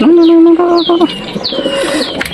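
A fantail pigeon gives a long, steady low coo up close, followed by softer cooing and brief chirps from other birds in the background.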